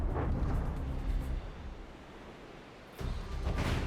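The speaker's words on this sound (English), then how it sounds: "the explosions from these rockets popping in here is just sending us spinning around in funny circles" Rocket explosions in From the Depths come as dense, roaring blasts up close. One burst opens, it fades into a rumble, and then a second sharp blast hits near the end.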